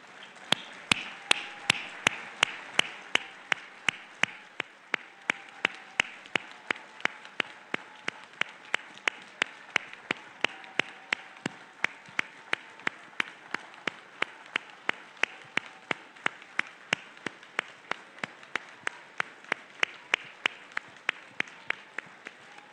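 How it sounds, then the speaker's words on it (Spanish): Sustained applause from a crowd greeting a newly installed municipal president at a civic ceremony, steady and dense with sharp rhythmic claps or beats punctuating it throughout. "Para ti, un caluroso aplauso."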